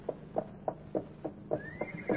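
Radio theatre sound effect of a horse: a steady clip-clop of hooves in an even rhythm, joined near the end by a rising whinny, close and clear with no talk.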